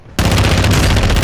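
Sustained loud burst of automatic gunfire in Call of Duty, starting abruptly after a brief quiet moment and running unbroken as rapid close shots, no voices.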